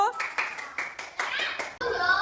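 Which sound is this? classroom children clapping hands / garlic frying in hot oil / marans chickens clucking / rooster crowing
classroom children clapping hands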